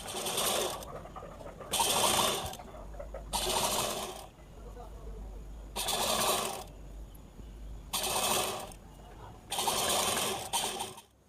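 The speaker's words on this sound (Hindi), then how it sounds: "इसका जो घेर है, इस पर हम डबल फोल्ड करेंगे और सिलाई चला लेंगे।" Sewing machine stitching a double-folded hem along the bottom of a baby girl's top made from a saree blouse piece, running in six loud bursts of about a second each, separated by short quiet pauses.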